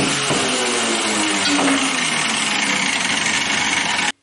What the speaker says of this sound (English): I have to cut this little piece out.